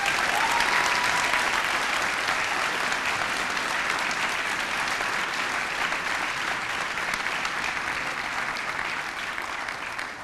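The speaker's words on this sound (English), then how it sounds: "Can we give them a round of applause?" A school event audience gives a sustained, dense round of applause for the organizing team at a salute-to-service ceremony; loud, even clapping that slowly tapers toward the end.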